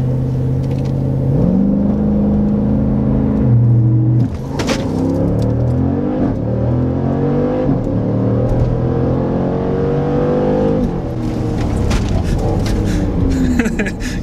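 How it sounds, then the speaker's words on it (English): A Jeep with a Procharger supercharger launches at full throttle in track mode, its engine revving hard and accelerating with rising gear-shift sweeps, loud and close throughout, with brief voices mixed in. "To launch, press full throttle."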